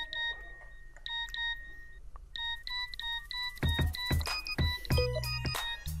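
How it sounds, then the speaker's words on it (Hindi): A phone rings and beeps repeatedly as SMS messages sent from a PC arrive, with electronic tones first spaced apart and then coming in quick overlapping bursts, close and clear with no talking. "फिर से घंटियाँ बजना शुरू"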